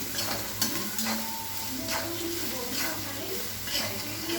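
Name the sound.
sautéing coriander-cumin powder in pan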